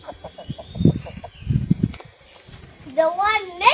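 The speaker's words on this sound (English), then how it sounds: "So today I'm going to show you how I feed the chicks." Chickens and chicks on a small farm at feeding time give short clucks and rising chirps, close by, with bursts of talk in between.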